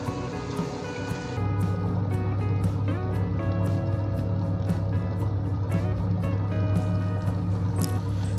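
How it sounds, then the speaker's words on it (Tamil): A wet grinder churns rice and urad dal with a steady low mechanical hum and a dense, continuous rumbling, loud and unbroken from start to finish after a brief quieter opening. "அரிசியும் உளுந்தையும் கிரைண்டரில் போட்டு நல்லா அரைச்சிக்கலாம்"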